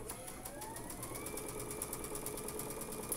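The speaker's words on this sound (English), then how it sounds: "making sure that that little thin piece is lined up nice and straight and sewing that" A sewing machine stitches thin fabric pieces for a Halloween cat quilt block, running in a steady, continuous whir at moderate volume with no pauses and no talking.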